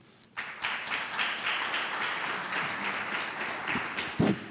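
An audience at a district research day on TB and HIV breaks into applause, steady clapping from many hands starting abruptly and continuing at moderate level, with a couple of louder knocks near the end.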